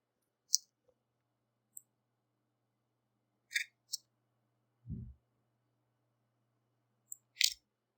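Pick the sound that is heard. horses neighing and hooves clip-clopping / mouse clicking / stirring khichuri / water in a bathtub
mouse clicking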